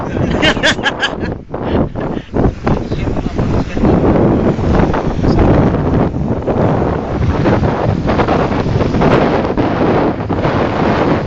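Strong wind buffets the microphone at the sea, a loud, constant rumbling roar with waves washing underneath, and voices are faintly mixed in throughout.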